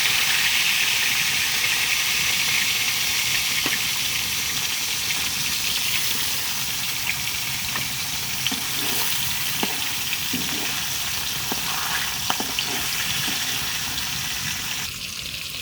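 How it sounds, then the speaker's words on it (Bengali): Fish fry in hot oil in a pan, giving a steady loud sizzle and hiss with scattered pops and crackles throughout. "মাছগুলি এভাবে ভাজা হতে থাক"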